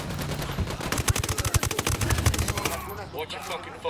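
Rapid bursts of automatic gunfire crackle loudly in Ghost Recon Wildlands, a dense volley of shots that thins out as a voice cuts in near the end.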